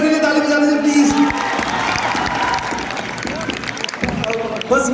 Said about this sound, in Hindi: पहले नीरज सर के लिए ताली बजा दीजिए प्लीज।